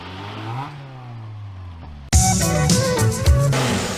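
A Mazda Miata fitted with a Ford Barra engine, built by a group of Australians, revs hard after a quieter stretch of idle, jumping to a loud, rasping roar with rising and falling throttle blips up close.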